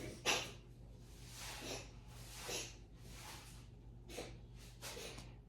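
A pet coughs in a quiet room, several short, faint, breathy bursts spaced a second or so apart, with no talking.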